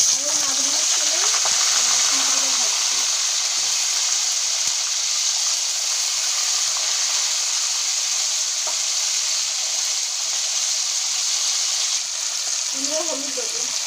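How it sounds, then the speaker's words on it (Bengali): Cauliflower frying in hot oil for a village-style Bengali prawn and cauliflower dish, giving a loud, steady, close sizzle throughout, with brief murmured voices near the start and end. "তেলটা গরম হয়ে গেছে, ভেজে নেবো ফুলকপিটা"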